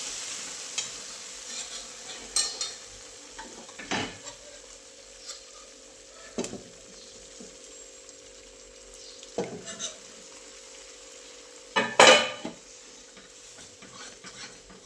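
Cooked dal for varan chakolya tipped into a hot tempering in a pan and stirred, with a low steady sizzle broken by scattered scrapes and clatters of the spoon, one louder knock near the end, no talk.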